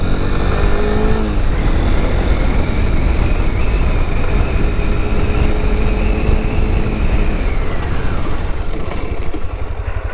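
A Honda NX200 motorcycle brakes hard from 60 km/h, with loud wind rush and engine whine holding steady, then the tone falls away near the end as the bike slows. No one talks.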